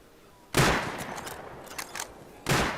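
Gunfire in the survival game Rust: two loud bursts of shots, one at the start and one near the end, with fainter scattered shots and reports in between.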